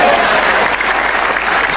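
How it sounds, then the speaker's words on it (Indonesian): An audience at a 2014 stand-up comedy show claps loudly and densely in a continuous burst of applause that fills the whole stretch. "Silakan tepuk tangan"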